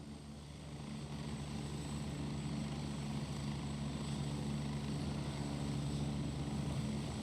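A helicopter in the video game Gray Zone Warfare gives a steady, droning rotor and engine hum that builds slightly over the first second, then holds at a constant moderate level with no talking.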